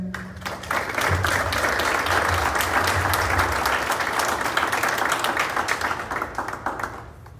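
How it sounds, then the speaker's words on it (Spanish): Sustained applause from an audience at a merchants' association assembly in Cholula, steady and fairly loud for several seconds, with a low voice briefly audible at the start before fading slightly at the end. "para quien pida un aplauso"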